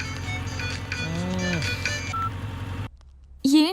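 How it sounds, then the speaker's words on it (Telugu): A mobile phone rings with a bright, repeating electronic melody under a voice, then cuts to silence before a sharp, warbling tone. "ఎవరో ఫోన్ రా."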